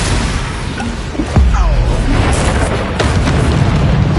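A Confringo explosive spell bursts in Hogwarts Legacy, a dense roaring boom over loud continuous combat noise with a sharper blast partway through, no clear speech.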